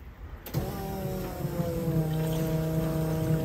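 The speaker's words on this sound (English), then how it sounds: "Okay, the pump's running now." An electric fuel pump on a 1976 Datsun 280Z switches on abruptly and runs with a steady, even whine and hum, close and constant through to the end.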